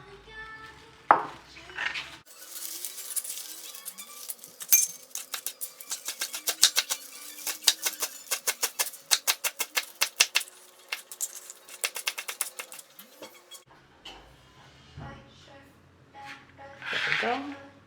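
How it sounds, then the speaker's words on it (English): A knife dicing spinach on a cutting board, with a long run of rapid, evenly spaced chopping taps, close and sharp, and brief talk and handling noises around it. "Now the spinach, we also have to dice it."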